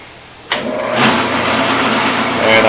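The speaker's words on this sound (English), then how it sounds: "So I'm going to turn the machine on" A metal lathe motor switching on, a sudden start that quickly rises into a steady, loud mechanical whine and hum, continuing evenly as the machine runs close by.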